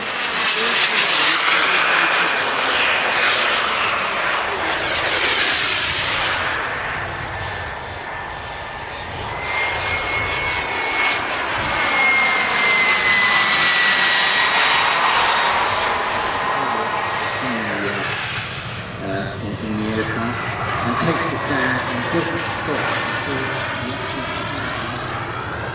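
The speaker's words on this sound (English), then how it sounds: "Next into the air were a couple of real jet aircraft," Model jet aircraft fly past overhead at an air display, their engines giving a sustained, loud roar that swells and fades as they pass, with no one speaking.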